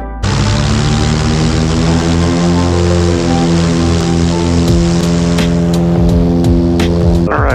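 A Piper Aztec twin-engine plane rolls for takeoff on runway 27 at Athens, Georgia, with a loud, close, sustained droning engine roar whose pitch holds steady before it cuts off near the end.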